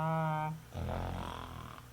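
A storyteller's voice imitates a cow snoring in a children's tale, a rough rumbling snore following a brief sustained vocal tone, close and moderately loud.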